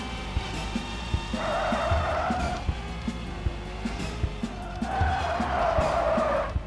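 In the Screw Drivers video game, a vehicle's air brake produces two long, loud skidding squeals, each lasting a couple of seconds and separated by a quieter stretch with a low engine rumble and intermittent clicks.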